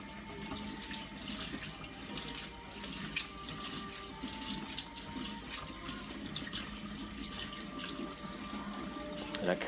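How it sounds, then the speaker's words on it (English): Tap water runs steadily into a sink while a vinyl record is rinsed underneath, a continuous close splashing hiss with faint shifting tones as the disc turns. "I try to keep one side of the record under the water as you're going around"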